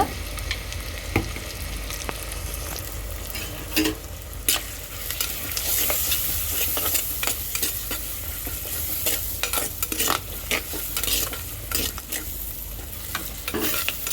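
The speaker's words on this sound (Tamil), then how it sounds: "மஞ்சத்தூள் ஆட் பண்ணி நல்லா கிண்டி விடுங்க" Green chillies, peeled garlic and turmeric sizzle in a hot pan while a spoon scrapes and stirs them in steady, repeated strokes, close and moderately loud.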